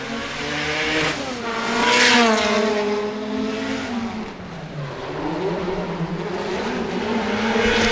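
A 640-horsepower Nissan Silvia drift car on a qualifying run at a drift Grand Prix in Sochi screams along with a high revving engine whose pitch rises and falls, mixed with tire squeal, loud and continuous.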